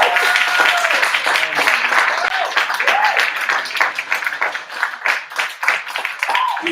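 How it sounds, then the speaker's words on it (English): Audience applause at a poetry slam in Berkeley, dense steady clapping from a crowd filling the whole stretch, with shouts and cheers rising over it. "Please have a round of applause for his friend enough."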